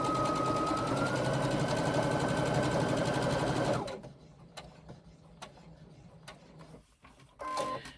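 A sewing machine stitches the bottom seam of a crossbody bag in a loud, fast, even whir with a rising pitch. It runs for about four seconds, then stops, leaving quiet room tone with a few small clicks.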